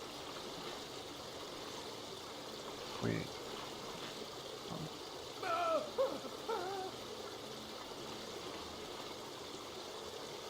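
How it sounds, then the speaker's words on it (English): Water rises and streams in a video game, a soft constant rushing wash with a few bright splashy trickles, faint and steady, while a person speaks briefly over it. "Water's coming up."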